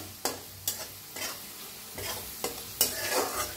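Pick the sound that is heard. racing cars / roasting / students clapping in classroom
roasting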